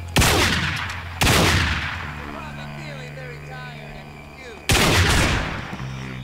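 Loud gunshots from the violent stealth game Manhunt: three sharp, booming blasts with long decaying tails, each standing alone, with faint background game ambience between them.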